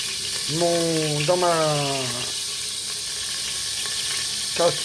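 Beef browns in a pan over medium heat for a bourguignon, giving a steady background sizzle broken by a brief squealing tone and a few faint clinks.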